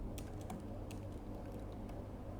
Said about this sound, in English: let me just type it right,